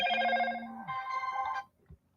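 A telephone ringtone plays a short electronic melody of sustained tones for about a second and a half, then stops, with no talking over it.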